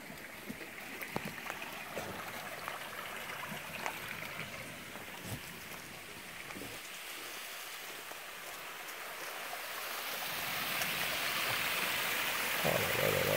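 Outdoor stream flowing through a campsite during a late-summer bivouac, a steady broadband rush of running water heard alone at moderate level, swelling slightly louder toward the end.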